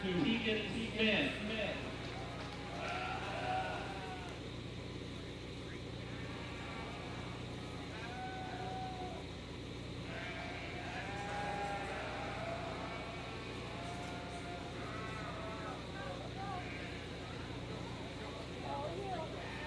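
Breeding ewes bleat at a 4-H livestock show, several wavering calls near and far across a busy barn, under an announcer's amplified voice and crowd murmur.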